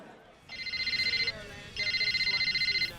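A telephone rings in the morning in a film scene, sounding two loud electronic trilling bursts separated by a short pause, close and clear.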